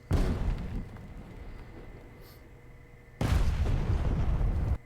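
Bombs dropped from a Lancaster onto an airfield in a flight game go off as two heavy, rumbling blasts a few seconds apart, each loud and sustained before tailing into a lower background drone.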